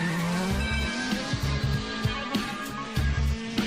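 Peugeot 406 race car from the film Taxi, screeching its tires through repeated skids while the engine revs and shifts, loud and close with no talking.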